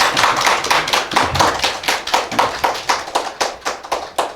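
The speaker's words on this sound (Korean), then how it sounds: "여러분 박수 좀 보내주십시오." A church congregation claps in steady, rhythmic unison, loud and close, with no voices over the beat for about four seconds.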